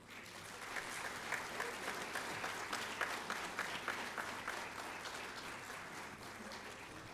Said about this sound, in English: Request you to welcome the dignitaries with a round of applause.